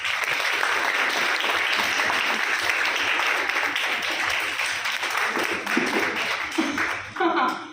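An audience applauds steadily and loudly throughout at a confidence-building speaking session, the clapping thinning slightly near the end as a voice begins to talk.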